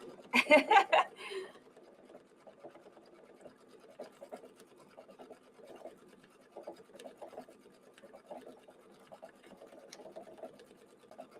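A home embroidery machine stitches a DIY lip-shaped envelope and trim, a steady soft whirring chatter that runs throughout after a brief louder burst at the start, with no talking.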